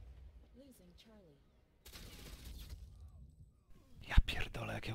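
Shotgun blasts in the tactical shooter Ghost Recon Phantoms ring out as a loud, sharp burst near the end, after a stretch of game effects and quiet voices.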